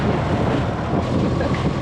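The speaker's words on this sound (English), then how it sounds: "A little bit windy out here." Strong, steady wind buffeting and roaring across a microphone in the Spanish Virgin Islands, a continuous rumbling gust with no voices.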